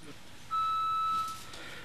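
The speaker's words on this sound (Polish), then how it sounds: "Taki sygnał oznacza po prostu koniec czasu na odpowiedź." A steady electronic beep from a debate timekeeper's timer marks the end of a candidate's answer time at an election debate in Przemyśl; one sustained tone of under a second, clear above quiet room noise.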